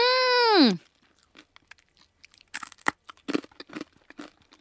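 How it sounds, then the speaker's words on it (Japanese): A bonito-flavoured crispy snack made with skipjack landed at Yaizu, Shizuoka, is bitten and chewed: a loud opening tone gives way to brisk, close crunching bursts in uneven clusters. "本当にねバリバリ行きたくなるお菓子でございますね"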